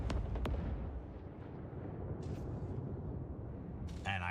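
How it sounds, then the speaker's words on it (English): Orbital bombardment of a planet in a sci-fi strategy video game: a continuous low rumbling barrage of distant booms and blasts with a few sharp bursts, steady and dense throughout. "You can bombard it, which I do."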